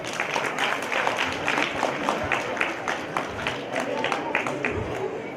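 Audience applauding at a spiritual discourse gathering at a Virakta Math, a dense steady wash of many hands clapping throughout, with a voice faintly under it.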